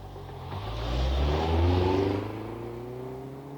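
A family car pulls away down a country lane toward town, its engine rising in a smooth rev that swells to a peak midway and eases off, steady and fairly close, with no voices over it.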